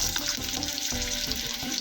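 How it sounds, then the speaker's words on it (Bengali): Panch phoron, a five-spice seed mix, crackling and sizzling in a hot kadai of oil, a steady close frying hiss with small popping accents throughout and no talk. "যাই একটা আমি ফোড়ন আবার পাঁচফোড়ন দিলাম"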